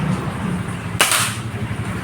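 A single sharp air rifle shot cracks close by from a Marauder with an Alfa barrel firing a 10.6-grain SW pellet at 15 meters, standing out against a low steady hum.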